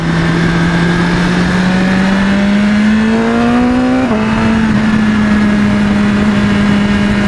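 A motorcycle, a 2020 BMW S1000XR or Yamaha FZ9, pulls away on the road, its loud engine note rising steadily through the revs, briefly dipping at a shift and then holding a strong drone.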